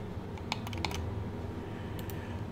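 Rapid mouse clicks while playing Minecraft, a quick burst of crisp clicks followed by a brief pair, set over a steady low hum of background noise.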